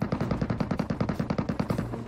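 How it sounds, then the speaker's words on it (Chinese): Rapid automatic gunfire in an escape shooter video game, a steady burst of about twenty evenly spaced shots fired loud and close with no pauses. "枪声又来活了，敌人在左边"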